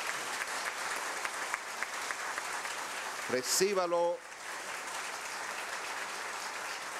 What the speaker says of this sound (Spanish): yo pedirle a todos ustedes un aplauso